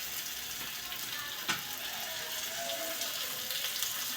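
Chopped spring onion greens drop into a hot pan for bharit, giving a steady broadband sizzle with a brief louder crackle as they land, continuous and fairly close, with no voices.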